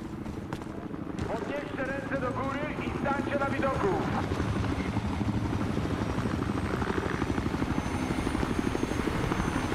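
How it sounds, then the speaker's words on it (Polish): A police helicopter in the video game Battlefield Hardline thuds steadily and grows louder overhead, its rotor beating, with a voice and some musical tones early on. "Zobaczcie jak ten helikopter tutaj lata i jak on oświetla teren,"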